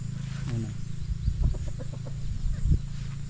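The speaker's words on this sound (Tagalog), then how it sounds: "Ang dami na naming sisiw dito" Chickens and small chicks cluck and peep close by under a farm shelter, a steady run of short clucks and chirps with a low constant hum beneath.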